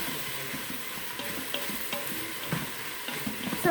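Onion, garlic, carrots and celery saute in an Instant Pot, giving a soft, steady sizzle with occasional light stirring scrapes close by, with no talking.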